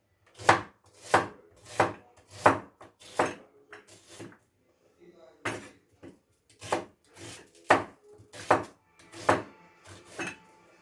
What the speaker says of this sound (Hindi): ये प्याज भी जो है ये मैं मोटा मोटा काट के इसमें डाल देता हूँ